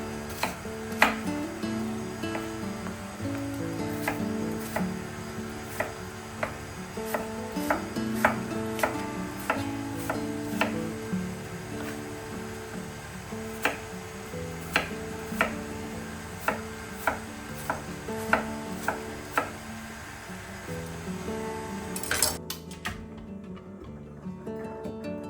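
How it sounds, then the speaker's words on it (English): Knife dicing peeled apples on a cutting board for a French-style apple cake, a run of sharp, irregular chopping taps over a quiet kitchen background. "I'm just peeling them and dicing them into small chunks"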